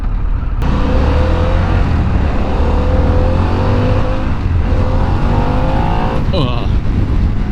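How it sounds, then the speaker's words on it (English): A 2025 Harley-Davidson Pan America ST sport-touring motorcycle accelerates hard, its engine note climbing through rising pitch sweeps with a gear change, loud and close over steady wind rush. "Brutal acceleration."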